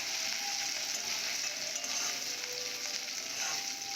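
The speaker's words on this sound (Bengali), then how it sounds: "এরপর আদা দেব ভালো করে ভেজে নেব আদাটা" Ginger fries in a pan for a banana flower and potato dish, producing a soft, steady sizzle that stays fairly quiet and even throughout, with no speech.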